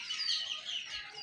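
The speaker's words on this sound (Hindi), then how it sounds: "और ये है हमारा मुर्गा" A brief rooster call, a raspy clucking vocalization lasting about a second, fairly close and clear.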